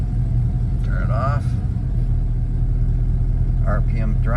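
A 1967 Ford Falcon with a 302 V8 idles in gear at about 600 RPM, a loud, steady low rumble throughout, with someone talking briefly over it.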